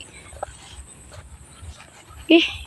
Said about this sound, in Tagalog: Mao ni be, aso na natin.